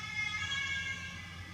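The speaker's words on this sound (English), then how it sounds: "here goes the sirens" Emergency sirens pass outside in Balaklava, a faint steady wail heard from a distance through a wall, held for the whole short stretch with no voices over it.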